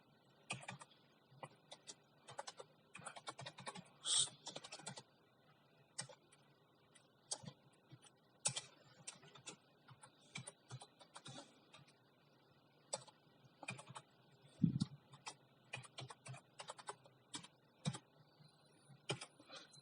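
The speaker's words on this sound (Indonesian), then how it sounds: "Kemudian kita ketikkan script sebagai berikut." Computer keyboard clatter as C++ code is typed, quiet irregular bursts of keystrokes with short pauses, close and alone with no talking.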